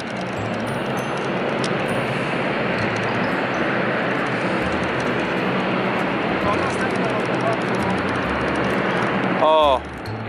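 A Dash turboprop landing at a military transport airbase gives a loud, continuous broadband roar that fills the whole stretch, with a brief change near the end.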